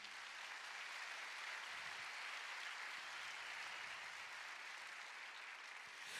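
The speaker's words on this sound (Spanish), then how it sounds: "den un aplauso al Señor en esta mañana" Steady applause from a church congregation during a Sunday morning service fills the space evenly from start to finish, a dense wash of many hands clapping at moderate loudness with no voices on top.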